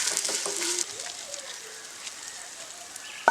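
Pappadam fries in hot oil with a loud, close sizzle that fades to a softer crackle after the first second, ending with a short knock.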